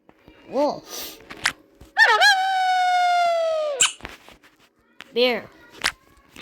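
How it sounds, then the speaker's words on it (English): A wolf howl rises and holds as one long, steady, drawn-out tone for nearly two seconds, with shorter yelping calls before and after, clear and near in an otherwise quiet setting. "wolf"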